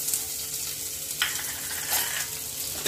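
Chopped onion frying in a pan with coriander powder over a low gas flame, cooked for a moong dal and bottle gourd sabzi: a steady close sizzle with a few brief bursts of stirring, no voices.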